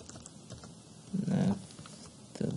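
Typing on a computer keyboard while entering a compound into chromatography software: a few soft, scattered clicks, with a denser burst of taps in the middle and another at the end.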